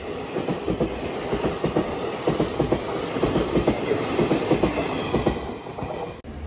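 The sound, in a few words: goods train passing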